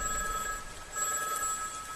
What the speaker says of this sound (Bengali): টেলিফোন 2 করে বাজছে দেখে বুঝলাম